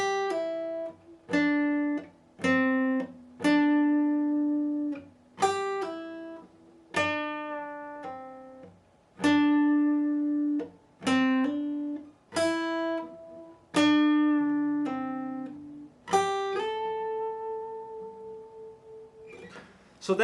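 Part 5 of a guitar solo played at slow tempo: distinct plucked notes in steady phrases, each ringing briefly, ending on a long held note, with no voice over it.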